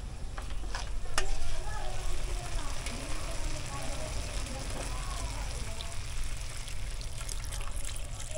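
Catfish cooking in a pan with vinegar, broth and coconut milk, a steady bubbling sizzle with occasional stirring clinks, close, while someone talks faintly.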